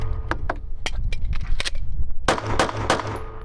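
A pistol magazine is drawn from a Kydex holster and reloaded, producing a rapid series of sharp plastic and metal clicks and snaps, loud and close, with a dense cluster of clacks near the end.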